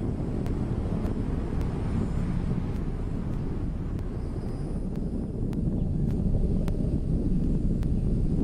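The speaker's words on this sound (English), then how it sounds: "Standing by for a solid rocket motor burnout about 10 seconds from now." Solid rocket motors on a Delta IV Medium rocket burn during launch, heard as a steady, loud, broadband roar with wind-blown rumble and no talk.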